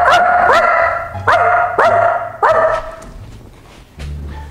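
A dog barks indoors, loud and close, giving about five sharp barks in a fairly regular series with a short pause before a final yelp.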